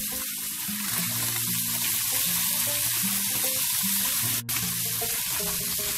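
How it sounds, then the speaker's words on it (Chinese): Golden threadfin bream fish frying in a pan with a steady close sizzle that runs the whole time, with a faint background hum underneath and no talking. "煎一煎呢个红三鱼。"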